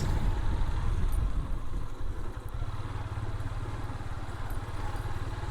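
A motorcycle rides over a badly broken rural road in Murادnagar, Bangladesh, its engine droning loud and steady throughout with clattering bumps from the rough surface.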